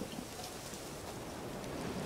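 Steady broadband rain hiss from The Witcher 3, continuous and even throughout with a faint low rumble underneath, quiet and without voices.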